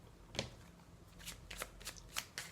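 Tarot cards being shuffled and handled in a quiet room, a string of crisp riffling bursts and soft slaps repeating every half second or so, close and fairly faint with no talking.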